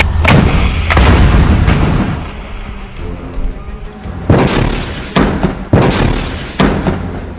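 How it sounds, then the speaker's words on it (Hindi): Heavy blasts from rockets striking an IDF Merkava tank in combat in Gaza, several loud booming impacts with rumbling decay, two bursts early and a cluster of sharp reports later. "इस टैंक के ऊपर पीछे से एक और रॉकेट फायर किया जाता है।"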